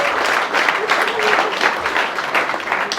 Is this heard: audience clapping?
yes